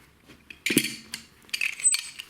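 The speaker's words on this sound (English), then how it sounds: "that is this footprint wrench right here" A GLCC Mossers Limited footprint wrench being handled and worked, a few close metallic clicks, clanks and ratcheting scrapes in short uneven bursts, with no speech.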